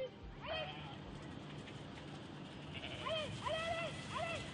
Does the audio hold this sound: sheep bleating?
yes